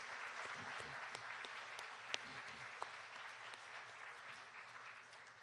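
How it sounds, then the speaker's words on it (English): Faint, distant round of applause from diners at a university athletic hall of fame banquet, an even wash of clapping with a couple of sharper single claps standing out. "So let's give Maureen a big round of applause"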